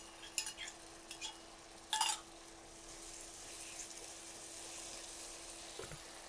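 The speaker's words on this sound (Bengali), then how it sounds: "ধুয়ে একটু পানি দিয়ে দিলাম।" A spoon rinsed and water added to a simmering chicken meatball kofta curry with yogurt: a few sharp spoon clinks against the pot, then a soft steady bubbling hiss, close and fairly quiet, no talking.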